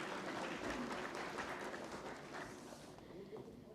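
Applause at a national technical textiles conclave as a bouquet is presented, a sustained crowd clapping that gradually fades toward the end, with some voices underneath.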